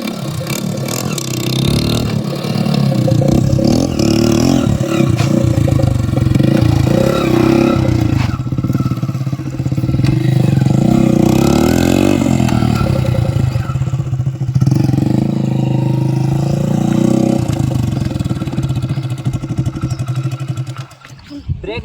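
A low-cc motorcycle with drum brakes revs and rides under stunt practice, its engine droning and rising loudly and close for about twenty seconds with some rattling, while someone talks over it.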